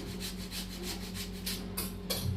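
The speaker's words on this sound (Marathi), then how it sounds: "एक बटाटा घेतलेला आहे, तो किसून घेतेय मी" A raw potato scraped across a kitchen grater in a steady back-and-forth rhythm, close and fairly quiet, each stroke a short rasping rub with a low hum underneath.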